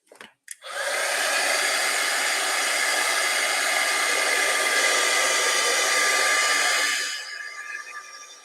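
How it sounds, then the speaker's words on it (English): A heat embossing tool dries a wet stamped card with a loud, steady blowing whoosh that runs for about six seconds, then cuts off and leaves a quieter hiss. "I'm going to give it a bit of a dry just while with the heat tool"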